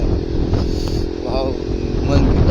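A Bajaj Pulsar NS 200 running an exhaust without a DB killer drones steadily at a low, rough pitch on a hill road, close and loud, while people talk over the engine.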